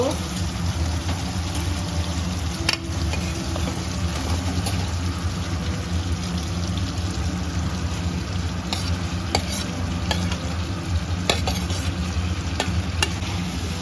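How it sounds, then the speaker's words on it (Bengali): Cauliflower goes into oil with fried spices for a royal-style rezala, giving a steady sizzle with occasional stirring clinks while a voice talks over it. "আমি এখন ফুলকপিটা দিয়ে দেব"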